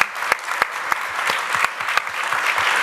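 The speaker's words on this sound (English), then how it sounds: "I'd love to really give a huge round of applause to our panelists" Audience applause for a panel of speakers at a housing development event, a steady dense patter of many hands clapping across the whole stretch, fairly loud and even with a few sharper claps standing out.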